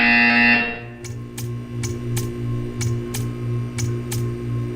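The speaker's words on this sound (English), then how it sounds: "When you hear the buzzer, stare at the art." Series of short buzzer pulses in the Portal 2 video game's art-staring test, about eight evenly spaced beeps roughly half a second apart over a steady low electronic hum, clear and alone.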